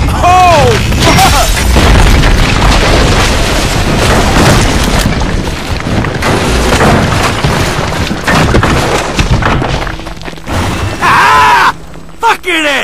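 A house deck pulled down and crashing in Grand Theft Auto V: a loud, sustained rumbling crash with booming impacts, overlaid by excited shouting voices.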